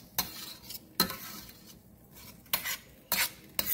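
A spoon stirs sauce in a pan on a stove at medium heat, with repeated scraping strokes and metallic clinks at an uneven rhythm, close and fairly loud.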